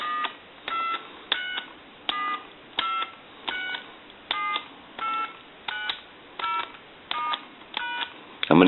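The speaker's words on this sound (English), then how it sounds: "I want to go ahead and dial our numbers" A run of touch-tone dialing beeps from an Ericofon reproduction telephone in brushed stainless, about a dozen evenly spaced tones pressed one after another, clear and close.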